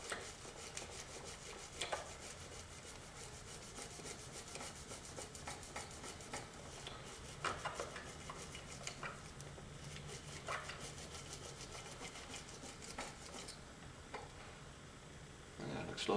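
Steady rubbing and light scrubbing as gunk is cleaned off a Steyr gun, a soft, close, continuous rasp with small clicks and a faint voice now and then.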